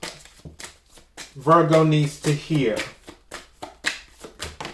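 Rapid crisp riffling of shuffled tarot cards, a dense flurry of light slaps, with a person talking over it.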